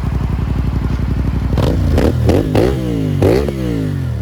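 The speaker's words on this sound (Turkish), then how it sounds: "Ara gaz vereceğim." A motorcycle engine idles with a rapid putter, then the throttle is blipped several times while shifting gears, revs rising and falling sharply, close by.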